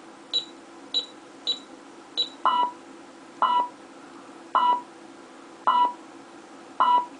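A CDA alarm system keypad beeps while the stay command is entered: four short, high key beeps, then five longer, lower tones evenly spaced, clear and close in a quiet room.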